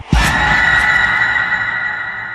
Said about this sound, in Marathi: तोंडातून एकच किंकाळी निघाली